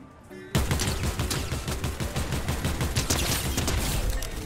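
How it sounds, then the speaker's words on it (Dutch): Automatic weapon fire in Fortnite, a loud rapid stream of shots starting abruptly and continuing without pause, close and dense throughout. "Tuurlijk niet, ik ga lekker schieten hier."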